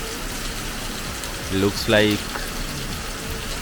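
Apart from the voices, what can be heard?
heavy rain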